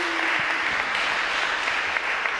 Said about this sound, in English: Can we give Steve a round of applause?